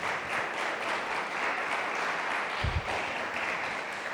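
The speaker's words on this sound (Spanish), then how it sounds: "Démosles un aplauso a los que están en la plataforma." A church congregation claps together in sustained applause that fills the room, a dense and steady patter heard at a moderate distance, with one brief low thump partway through.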